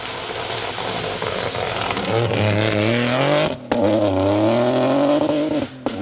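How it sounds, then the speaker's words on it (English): Rally cars race flat out on stage 5 of the Malcolm Wilson Rally, including a raucous Peugeot 208, engines screaming loud and close through rising revs with sharp gear-change dips. "where you can not mistake the sound of those cars, can you?"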